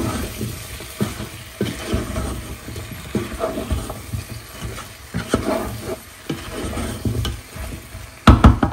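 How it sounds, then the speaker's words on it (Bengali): Potato and pointed gourd pieces sautéed together in a pan, a low sizzle under repeated scraping and clattering stirs, uneven and close, with a louder knock of utensils at the end and no speech. "আলু পটল দুটো একসাথে কষায় নিব"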